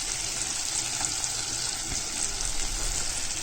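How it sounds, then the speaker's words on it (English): Chopped onion frying in hot oil for pongal sambhar, a steady close sizzle with soft crackle running throughout, no voices. "And to this oil, we first add onions."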